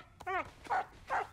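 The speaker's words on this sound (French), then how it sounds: "ce n'est pas le moment d'aboyer" An animated dog in a Polly Pocket cartoon gives a short whimpering whine followed by two quick, fairly close barks, with no talk over them.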